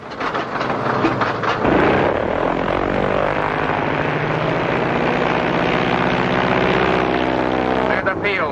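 Propeller airplane engine droning loud and steady on an emergency landing approach, carrying a load of bombs, with a strong continuous roar and shifting harmonic tones, no speech over it.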